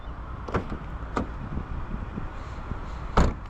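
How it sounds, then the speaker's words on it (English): A heavy door of a 2026 Mercedes-AMG CLE 53 shuts with a heavy thud, preceded by a few lighter clicks and handling knocks, the solid closing thump landing near the end. "I love how heavy the doors are"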